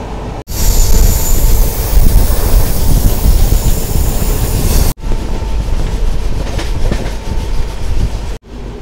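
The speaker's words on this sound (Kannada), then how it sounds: "ಸಿಗ್ನಲ್ ಆಯಿತು ಟ್ರೈನ್ ಡಿಪಾರ್ಚರ್ ಆಗತ್ತೈತಿ" A passenger train departs and runs on its rails, a loud, close, continuous rumble with rattling and clattering wheels, carrying on steadily for several seconds with a couple of abrupt breaks and no talk over it.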